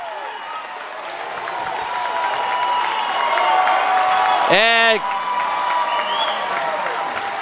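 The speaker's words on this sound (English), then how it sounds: "Listen to the crowd on that one." Basketball arena crowd roars and applauds after a dunk, a loud sustained cheer under excited commentary, with a sharp whistle blast near the end.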